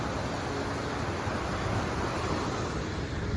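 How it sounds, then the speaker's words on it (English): A small waterfall on a farm pours continuously, a loud, steady broadband rush of flowing water heard close up with no pauses. "wow, the sound of the water."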